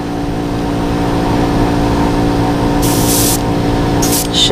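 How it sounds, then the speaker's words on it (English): Airbrush spraying paint on a figure repaint, a steady loud hiss of air throughout, with short bursts of fine paint spray near the end. "I'm going to spray it through just for a second to kind of get it to blend."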